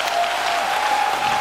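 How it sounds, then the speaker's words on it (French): Congregation applauding during a French-language church deliverance service, a dense steady wash of clapping with a sustained tone running underneath, held throughout the short stretch. "Applaudis le Seigneur des Seigneurs!"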